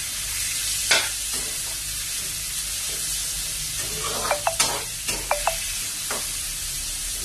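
Ground meat with pepper sautéing in a pan for a mung bean vegetable dish, giving a steady sizzle with occasional scraping clinks from the stirring utensil.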